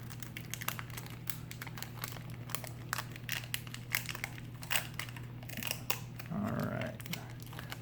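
A Star Wars CCG Special Edition booster pack wrapper being torn open up close, with continuous crinkling and tearing of foil plastic over a faint steady hum, and no talking.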